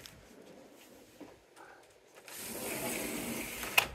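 A car window on an older Mazda RX-7 winds open with a brief mechanical whir and ratcheting rasp, quiet at first and then a louder steady grind near the end, close by in a calm interior.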